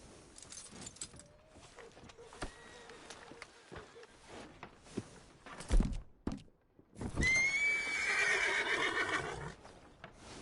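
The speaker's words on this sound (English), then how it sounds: "Are you gonna mount that new horse of yours or not?" Horse whinnying loudly and clip-clopping hooves with a jangle of tack in Red Dead Redemption 2, scattered steps and thuds leading into a long, near neigh over faint background noise.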